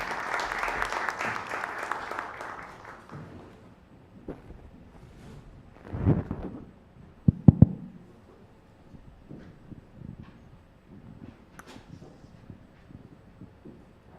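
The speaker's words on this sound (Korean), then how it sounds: "박수로 맞아주시기 바랍니다" Audience applause at the opening ceremony of a Korean university presidents' summit, loud at first and then fading within a few seconds, followed by scattered thumps and faint room noise.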